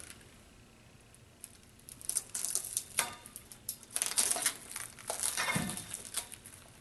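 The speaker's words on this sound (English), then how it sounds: "I'm now going to carefully cut them apart using a box cutter." A box cutter slicing packaging off metal shelving rails, with intermittent close crinkling, scraping and tearing bursts after a quiet start.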